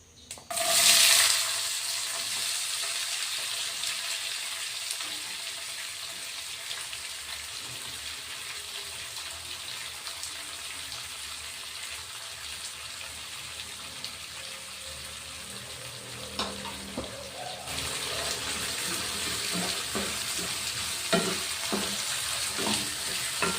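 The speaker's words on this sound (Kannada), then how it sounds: "ಈರುಳ್ಳಿ ಸಹ ಚೆನ್ನಾಗಿ ಫ್ರೈ ಮಾಡ್ಕೊಳ್ಳೋಣ." Chopped onions frying with chana dal in a pan, a loud continuous sizzle throughout with a few utensil scrapes and stirring knocks near the end.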